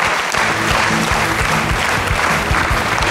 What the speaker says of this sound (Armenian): եւս մեկ անգամ բարձր ծափարենք տղաներին